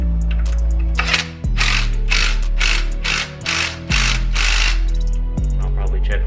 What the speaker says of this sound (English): Gotta tighten that one down a bit.